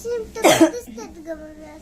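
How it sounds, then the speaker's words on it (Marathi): A single short, harsh cough breaks out mid-clip, close and fairly loud, amid a voice speaking softly around it. "मला फक्त खोकला लागलाय हो"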